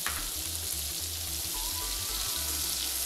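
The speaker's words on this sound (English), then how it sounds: "We're going to fry the onion until they're translucent." Onions frying steadily in a pan for crockpot beef short ribs, a dense continuous sizzle with a low rhythmic rumble underneath, close and even throughout with no talking.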